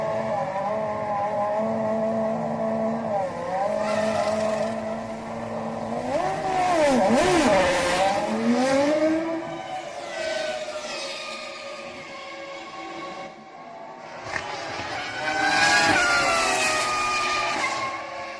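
Formula One cars around the Ferrari pit stop at the 2000 French Grand Prix, with high-pitched engines rising and falling as cars pass and rev, layered and continuous, surging loudest midway and again near the end.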